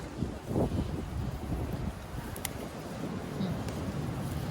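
Steady wind gusting across an open microphone outdoors while gathering wild vegetables in nature, a continuous low rumble and buffeting throughout with no clear speech.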